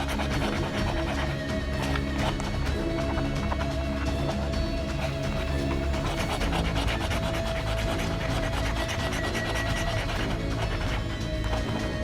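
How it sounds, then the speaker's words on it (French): Coins or a fingernail scratching the coating off FDJ scratch-off lottery tickets, giving a steady close rasping and rubbing that runs continuously without talk. "Je gratte tout et ensuite je contrôle."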